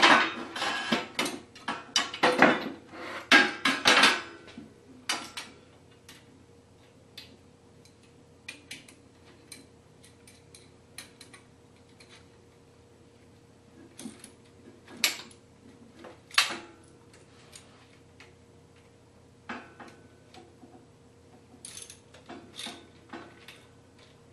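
A crescent wrench works on the metal hardware of a Guide Gear ladder tree stand being assembled, with a burst of clinks and rattles up close, then scattered sparse metallic ticks and taps over a quiet background.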